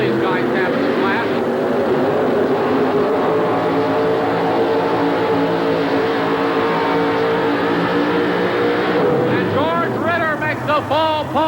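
A Chevrolet pulling truck roars at high power in a 1988 indoor truck pull in Birmingham, Alabama, a loud, sustained engine howl that climbs and wavers, under an excited announcer's commentary throughout.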